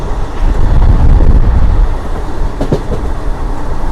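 A Seven Hills SF Express train pulled by a WAG9 electric locomotive rumbles past loud and close, a heavy rolling roar with faint wheel clatter near the end.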